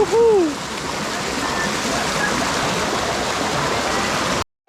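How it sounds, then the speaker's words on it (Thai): Steady rushing of a hot spring waterfall in Krabi, Thailand, continuous and fairly loud, with a short whistle-like tone at the very start before the water fills everything. "บรรยากาศน้ำตกร้อน"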